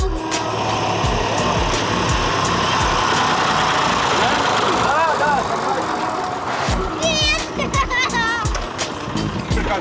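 An old tractor roughly fired up with petrol from canisters runs in a continuous loud, rumbling drone close by, with rattles and mechanical clatter and a few squealing tones over the engine.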